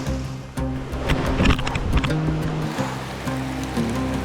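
Fast-running stream water rushes steadily over rocks in a desert canyon, a close and constant wash joined by a few brief knocks and shuffles nearby.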